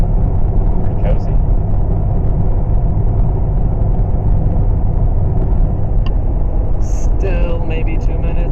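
A Honda Civic Type R FK8 rolling along at 75 in comfort mode on a cloudy road trip, giving an even, continuous low cabin rumble of engine, tyres and wind, with a couple of small interior clicks near the end.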